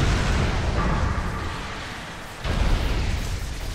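Grenade blasts in the Warhammer 40,000: Space Marine video game, heavy low booms with a rumbling tail, a second loud burst hitting about two and a half seconds in, no talking.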